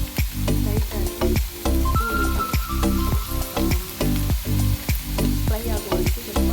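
Capsicum frying lightly in a low-oil pan for a paneer fry, a busy close sizzle broken by repeated sharp clinks and scrapes of a spatula stirring against the pan.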